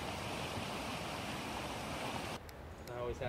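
Steady roar of a gorgeous waterfall at a backpacking camp in Yosemite's Grand Canyon of the Tuolumne, loud and continuous rushing water filling the scene before it briefly softens near the end.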